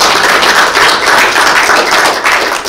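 Group of people in a job-readiness workshop applauding together, dense steady clapping close and loud for a few seconds with no talk.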